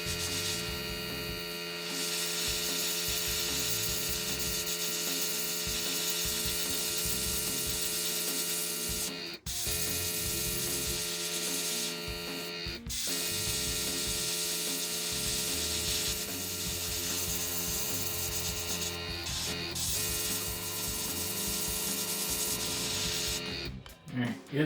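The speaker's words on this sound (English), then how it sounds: "let's go ahead and spray this one up and get it a little dirty." An airbrush sprays paint in a long, steady airy hiss with a couple of brief pauses, over a low mechanical hum.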